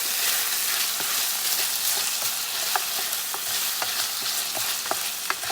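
Chicken, cabbage and vegetables stir-frying on a Cadac Safari Chef gas cooker with sesame oil, a continuous close sizzle punctuated by regular clacks of a utensil stirring the pan.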